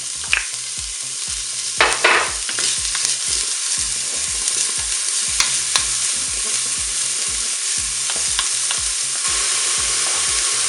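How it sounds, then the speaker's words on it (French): Lardons frying in a preheated Cookeo multicooker pot, a loud continuous sizzle broken by repeated rhythmic scraping and stirring knocks throughout, close up with no voices. "je vais commencer par faire revenir les lardons"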